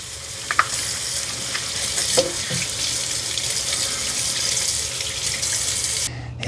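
A tap runs steadily into a sink while a part of a Dyson Vis Nav robot vacuum is washed, a continuous close hiss of water with a few small knocks.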